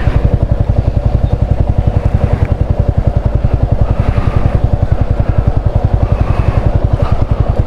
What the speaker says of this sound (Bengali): খুব সাবধানে বাইক চালাতে হচ্ছে, একদম কাদা, ফুল স্লিপারি, পুরো স্লিপারি।